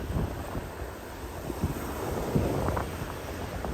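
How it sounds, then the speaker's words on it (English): Strong gust of wind buffeting the microphone at a Hollywood, Florida beach during spring break, a continuous low rumbling roar with surges, loud throughout and no voices. "I got a strong gust of wind."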